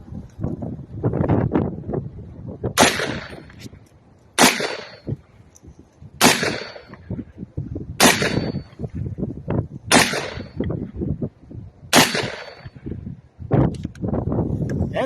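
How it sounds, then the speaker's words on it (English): Six evenly spaced sharp reports from a powerful rifle with heavy recoil ring out outdoors, each a loud crack over constant gusting wind noise buffeting the microphone. "It's the most powerful rifle that I ever fired so far, and well, you're going to get to see it. It's quite the recoil."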